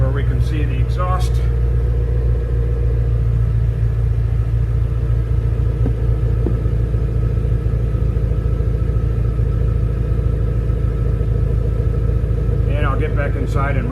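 A 2018 Shelby GT350R idles, its engine and exhaust making a steady, deep rumble that lasts throughout, with brief voices at the start and end.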